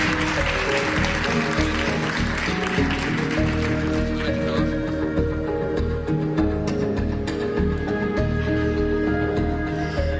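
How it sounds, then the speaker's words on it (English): Applause from a conference audience for a panel at the Warsaw Security Forum, a broad clapping wash strongest early and fading while steady music plays underneath. "Big applause for our panelists."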